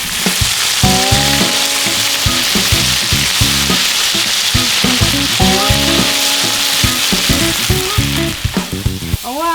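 Sausages and peppers fry loudly in a pan for a hoagie, a close, continuous crackling sizzle with bubbling spits and stirring clatter throughout.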